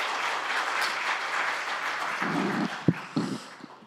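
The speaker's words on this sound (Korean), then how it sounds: "힘찬 박수 부탁드립니다." Applause from a seminar audience greeting a government minister as he is called to the podium, a dense steady wash of clapping that thins out near the end with a few isolated louder claps.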